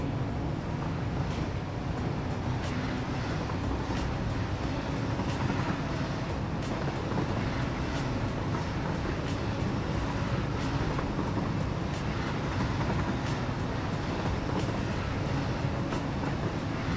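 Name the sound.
train rumbling in a video game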